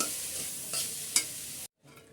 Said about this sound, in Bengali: এখানে আমি যে নুডলসটা সেদ্ধ করে রেখেছিলাম সেই নুডলসটাও দিয়ে দিলাম আর ভালো করে মিক্স করে নিচ্ছি